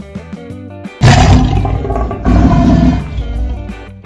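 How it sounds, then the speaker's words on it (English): A lion gives two long, loud, rumbling roars in succession, each deep and broad, set over steady background music. "Lion,"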